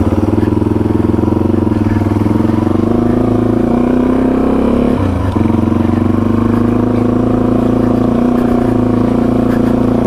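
Vehicle engine running on a test run, a loud continuous drone with a brief dip in the middle before it settles back to a steady hum, heard close and without talk.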